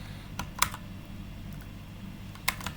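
Keys tapped on a computer keyboard, a few scattered clicks close up ending in a firmer Enter press, with a low hum underneath and no talk.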